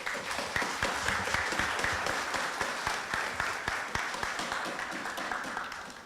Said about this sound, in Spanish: Y por favor el señor Fernando Carrillo, a quien le vamos a brindar un fuerte aplauso